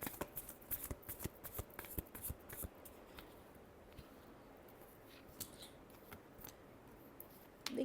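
Tarot cards being shuffled by hand, a quick run of crisp riffling flicks and snaps up close, then softer card rustling, faint and with no talking.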